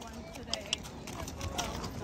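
Horse hooves clip-clop along a trail in a steady walking rhythm, close by, mixed with outdoor background noise and people talking over it.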